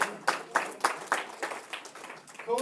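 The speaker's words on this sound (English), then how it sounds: "Give him a hand clap" A church audience applauding a man, a short burst of scattered hand claps in irregular rhythm, moderately close and fading slightly.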